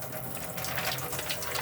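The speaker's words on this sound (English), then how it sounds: "once that water is running continuously out of every tap" Water runs steadily from the taps of a 2020 Coachman Acadia 575 caravan as the water pump fills the system, a continuous close rushing flow with no voices.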